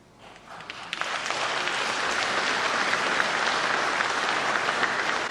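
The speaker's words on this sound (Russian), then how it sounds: "Зал аплодирует, Петя делает паузы и зал аплодирует." Audience in a hall applauding Poroshenko's speech to the diaspora, sustained dense clapping rising after a second and holding steady and loud throughout, with no voices over it.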